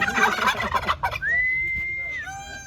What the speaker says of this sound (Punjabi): ਮੋਰ ਬੋਲੀ।